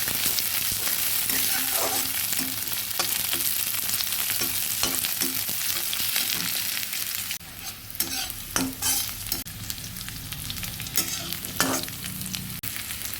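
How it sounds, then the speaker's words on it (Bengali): Chopped onion, garlic and green chili fry in a pan with a fish-head and taro dish, stirred steadily. A constant sizzling hiss sits under repeated clicking stir strokes, close and moderately loud. "এবার দিয়ে দেব পেঁয়াজ কুচি, রসুন কুচি আর কাঁচা লঙ্কাটা। সুন্দর করে নেড়ে নেড়ে ভেজে নিচ্ছি।"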